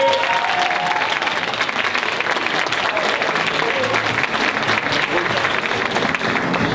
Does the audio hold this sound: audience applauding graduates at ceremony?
yes